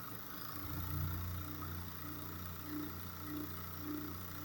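A single-phase PSC motor on a bench grinder, driven by a 120V VFD at 60 hertz, hums steadily with a low drone and faint periodic pulsing, running alone without talk.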